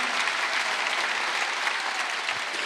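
A church congregation at a Korean Wednesday worship service claps as one, producing a dense, even wash of applause that continues without a break.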